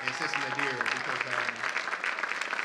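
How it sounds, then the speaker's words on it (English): Congregation applauding during a Sunday morning worship service, a brisk crowd of hands clapping close by, with voices and shouts mixed in under the clapping. "I just need y'all to give a resounding round of applause to Sister Vanessa right here and Sister Nadir"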